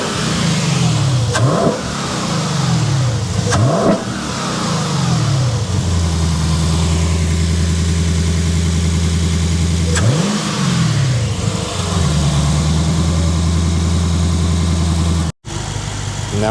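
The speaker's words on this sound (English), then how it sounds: "we're gonna start again and make sure everything's good" A car engine fitted with a new crank pulley starts up and revs repeatedly, rising and falling in several strong sweeps between steady idle stretches, loud and close with no talking.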